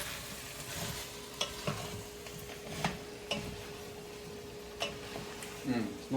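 Butternut squash caramelizing in a pan over medium-high heat for game day queso, a soft low sizzle broken by intermittent scraping stirs and light clicks of a utensil.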